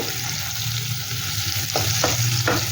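Potatoes sizzle in hot oil in a pan with a steady hiss, and a few sharp stirring scrapes sound near the end.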